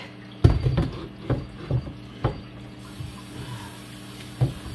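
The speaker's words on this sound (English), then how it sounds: "Rinse her off a little bit." Water rinses over glass while calcium deposits are cleaned off, heard as a few soft splashes and patters spaced out over a low background, fairly close.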